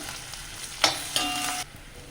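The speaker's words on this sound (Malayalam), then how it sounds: "വെളുത്തുള്ളി, ഇഞ്ചി, പച്ചമുളക്, കറിവേപ്പില അതൊക്കെ അതിലേക്ക് ഇട്ട് കൊടുത്താണ്. അപ്പോൾ അതൊന്ന് മൂത്ത് വരട്ടെ." Garlic, ginger, green chili and curry leaves frying in a pan for a prawn roast, a soft steady sizzle with two sharp louder bursts from stirring before it settles back down.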